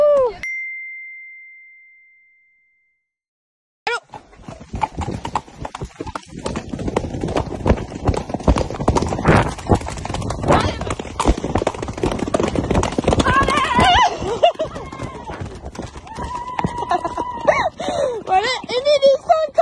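A horse gallops along with a brisk, continuous clip-clop of hooves close by, following a short bell-like tone and a pause, with excited voices calling out over the hoofbeats.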